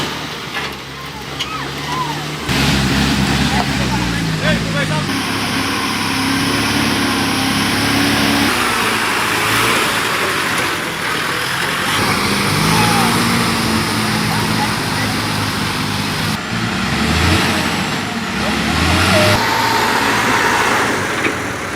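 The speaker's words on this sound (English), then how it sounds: "Wheels spinning, engines roaring, and drivers just hoping not to get stuck" Heavy trucks struggle along a deep, muddy road, their engines roaring loud and close in rising and falling surges as wheels spin and churn through the mud.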